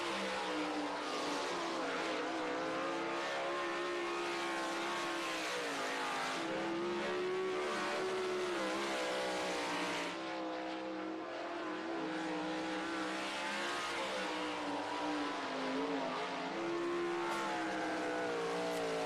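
A race car laps Ohsweken Speedway at speed, the engine a loud, sustained high-pitched roar with pitch swells through the corners, continuous and unbroken for the whole stretch.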